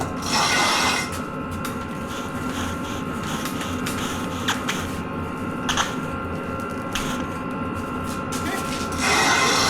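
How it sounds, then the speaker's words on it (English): Tightening the front wheel pinch bolts on a Beta 390 RR-S motorcycle with a ratchet: steady mechanical clicking and rubbing of tool and metal, close and fairly even through the clip, over a low background hum. "we're gonna pinch the right bolts here and torque it down"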